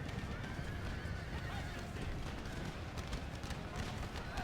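Cavalry horses in the battle game Empire Total War neigh and whinny over a continuous rumble of galloping hooves, with faint distant gunfire and a voice talking over the din.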